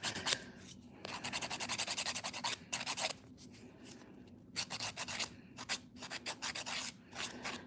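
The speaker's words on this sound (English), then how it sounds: "if you're filing, you're kind of preoccupied with both hands" Acrylic nails being filed with a hand nail file during a nail backfill, a close, crisp rasping scratch in rapid bursts of repeated back-and-forth strokes separated by short pauses.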